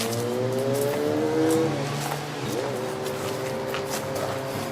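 A 1973 Chevrolet Nova drives nearby with a steady engine drone, rising and falling in pitch as it revs and shifts, loud and continuous throughout with no talking.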